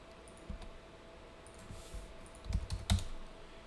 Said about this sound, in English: we'll type in 50